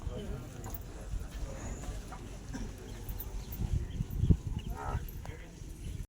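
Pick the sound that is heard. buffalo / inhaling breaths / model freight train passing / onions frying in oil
buffalo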